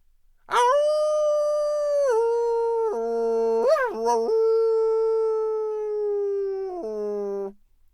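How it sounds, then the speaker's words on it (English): A single long, clear howl like a wolf or dog rises, sustains and bends through several pitch steps for about seven seconds, loud and close in an otherwise silent setting. "they stopped once and started to howl"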